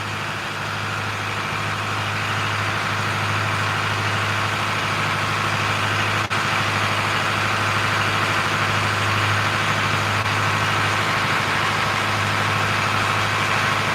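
A truck engine idles steadily and alone for the whole stretch, a close, even low rumble with a constant hum and no revving.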